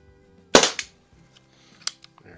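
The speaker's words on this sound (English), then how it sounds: "we'll do a little bit of plinking and see if we can knock them cans over" Crosman 44 Peacemaker air revolver from circa 1976-81 firing while plinking at cans: one sharp, loud pop followed by a quick clatter, then a second fainter crack about a second later.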